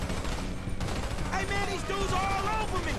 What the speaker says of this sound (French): Ça, c'est une MP5, elle est pas mal.